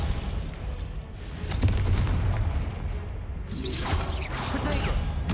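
Confringo fire spell blasting in Hogwarts Legacy, a string of loud swooshing bursts and booms layered over steady game noise, with a couple of sharper hits near the end.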